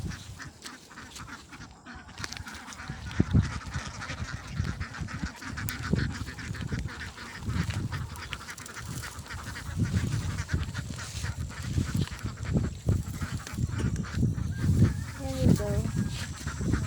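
Ducks kept in a pen beside a river quack and honk in scattered bursts over a busy background. Some calls are close and others farther off, and a faint voice is heard at times.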